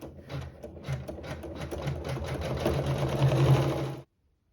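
A sewing machine stitches quilting lines over quilt fabric with matching thread, a steady close, busy mechanical whir with rapid needle clatter running continuously for about four seconds before stopping abruptly.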